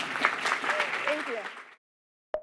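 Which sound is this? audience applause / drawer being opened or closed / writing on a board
audience applause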